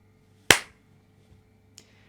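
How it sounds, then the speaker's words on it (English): A single sharp hand clap used as a sync marker before a podcast recording, close and isolated in a quiet room, followed by a faint small click a moment later. "I'll clap, okay? So it helps."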